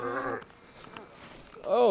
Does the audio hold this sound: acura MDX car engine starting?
no